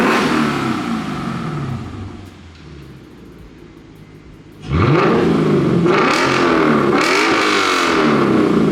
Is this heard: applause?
no